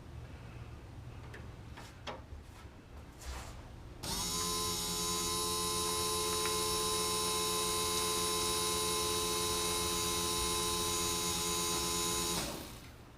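An electric fuel pump hooked into a 1987 Jeep Comanche fuel system switches on abruptly and runs with a steady, loud whining hum for about eight seconds before cutting off, following quiet shop noise and faint clicks.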